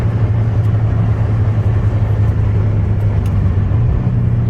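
An Audi S3 with 300 hp accelerates, its engine a steady loud low rumble that holds throughout, close up and with no talk over it.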